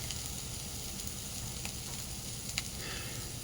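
Food sizzles in a wok over a burning stove in a village home, a steady soft crackle and hiss with a few sharper pops, fairly quiet and without talk.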